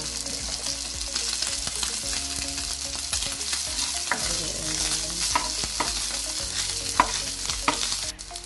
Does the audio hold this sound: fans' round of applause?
no